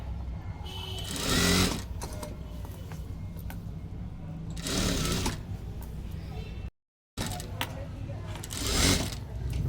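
A sewing machine stitches a four-tuck blouse in bursts of steady mechanical whirring that start and stop, with quieter pauses between runs and a brief silent gap near the end.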